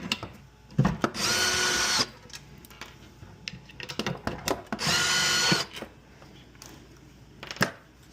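Power drill backing bolts out of an electric motorcycle charger case, two whirring bursts of about a second each, close and loud, separated by clicks and handling of parts, with no talk.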